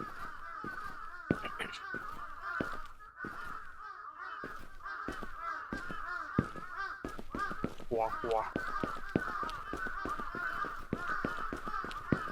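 Crows caw repeatedly in a steady rhythm against the soundtrack of the horror game Akai Onna, while voices talk over them and sharp clicks punctuate throughout.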